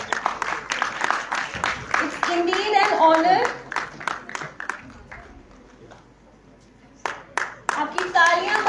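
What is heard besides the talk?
audience applause at a science conclave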